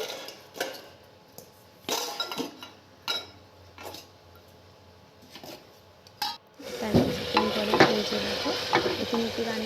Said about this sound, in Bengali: ডালটা বসানো আছে তো আমি একবার একবার করে নাড়াচাড়া করে নিচ্ছিলাম